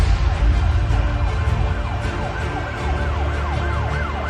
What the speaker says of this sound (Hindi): पुलिस सायरन का आवाज सुनाई देता है